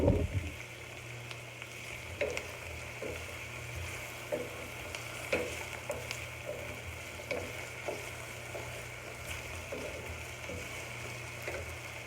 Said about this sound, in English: We're going to combine in our vegetables, just halfway sauteed